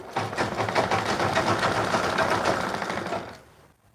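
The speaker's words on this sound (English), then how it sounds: "So I continue stitching from the armpits till I reach the down parts" A sewing machine stitching the side seam of a double-layer ruffled dress, running in a fast, steady whirring chatter, close and loud, for several seconds before winding down and stopping.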